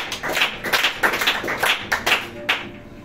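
A church congregation claps together in praise of the Lord, a run of sharp, fairly loud hand claps in an uneven rhythm with a few bursts close together, heard alone without talk.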